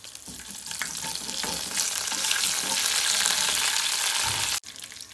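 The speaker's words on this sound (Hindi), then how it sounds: "ये गरम हो चुका है, राई और ज़ीरा। राई ज़ीरा होने के बाद इसमें हम डाल देंगे करी पत्ते।" Curry leaves crackle and sizzle loudly in hot oil with mustard seeds and cumin, a steady dense frying hiss that holds for several seconds before cutting off abruptly near the end.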